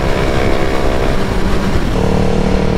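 A motorcycle, likely a 2021 BMW S1000RR alongside a Yamaha MT-07, roars loudly at high speed with a sustained engine drone and wind noise.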